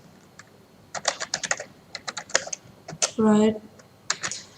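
Code being typed on a computer keyboard for a Raspberry Pi voice control project, close clattering keystrokes in quick irregular runs, with a single short spoken word midway.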